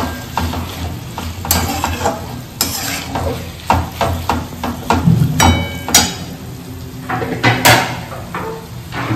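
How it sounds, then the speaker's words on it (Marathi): A spoon stirring peanut powder into a cauliflower vegetable dish in a pan, with loud close scraping and clinking against the pan over a soft sizzle, continuing throughout with no talking. "शेंगदाण्याचं कूट टाकून घ्यायचं आहे तुम्हाला आणि ते मिक्स करून घ्यायचं आहे"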